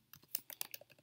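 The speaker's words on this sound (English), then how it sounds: "I'm going to start by typing out standard" Fast typing on a computer keyboard, with quick, uneven clicks of keys close by and quiet between bursts.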